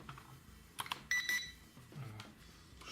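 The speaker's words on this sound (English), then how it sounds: "Something beeped." A short electronic beep from an E58 mini quadcopter or its remote controller, a couple of bright tones over faint handling clatter, heard close by with no talking.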